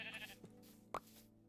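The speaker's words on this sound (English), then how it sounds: "Excellent, a sheep right here for a bed." Sheep bleating in a Minecraft-style blocky video game, a couple of short nasal bleats with one louder, sharper call near the end, quiet and with no voices.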